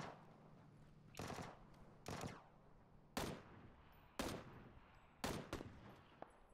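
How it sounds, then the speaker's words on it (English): Gunshots in PUBG, five or six sharp distant cracks spaced about a second apart, each with a short echoing tail over a quiet background. "Watch it, shots from somewhere"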